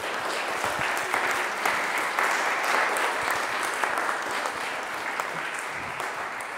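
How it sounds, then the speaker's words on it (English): Audience at a developer conference gives the presenter another round of applause after his talk, a loud, continuous burst of clapping filling the hall throughout. "Let's give Rainer another round of applause"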